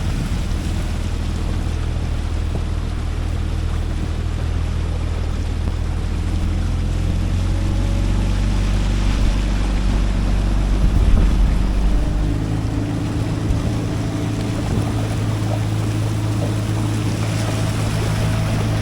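A Suzuki DF20 outboard engine drones steadily and loudly as the boat runs over water at sunset, with wind and water rush underneath and a slight shift in pitch partway through as the throttle changes.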